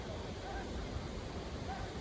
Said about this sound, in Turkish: Burası Savruk mağarası ve şelalesi.